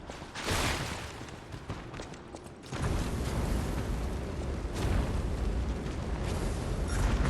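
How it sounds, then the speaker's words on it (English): Explosive blasts and fiery bursts from a ceiling-dropping enemy that explodes in the game Lies of P, a loud broadband roar that jumps in at about half a second and again near three seconds, sustained and heavy throughout. "Just keep an eye on the ceiling for these. And don't forget that they explode"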